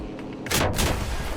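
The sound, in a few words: anti-aircraft gun firing in a video game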